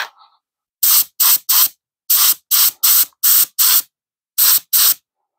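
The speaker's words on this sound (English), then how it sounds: "I'm gonna check the spray pattern first" Paint spray gun loaded with terracotta primer firing ten sharp, loud bursts of hissing spray in quick groups, close and alone, with silent gaps between them.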